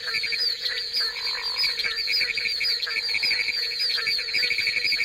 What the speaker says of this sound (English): That was the voice of the barking tree frog, Hyla gratiosa.